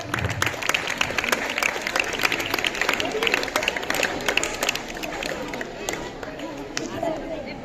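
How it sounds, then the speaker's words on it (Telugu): Audience applause at a school zonal games prize ceremony, dense steady clapping from a crowd throughout, with faint voices mixed in underneath. "Give big clap."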